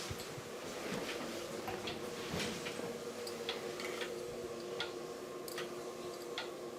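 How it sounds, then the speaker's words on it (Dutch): A pendulum clock ticks steadily at a slow, even pace, sharp clicks repeating over a continuous low hum in a quiet room. "dan doe ik een slinger aan en dan had hij zuiver de hartslag van een olifant"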